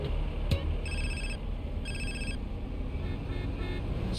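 A mobile phone rings in the GTA San Andreas video game, giving two evenly spaced electronic ring bursts over a steady rumble of game ambience, preceded by a brief click, with no talking.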